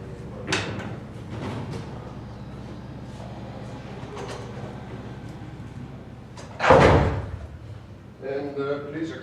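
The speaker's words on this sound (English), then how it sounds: "So let me close the door." A door swings shut with one loud, close thump partway through a room where a lecture is starting, with faint rustling before it and a few quiet knocks just after.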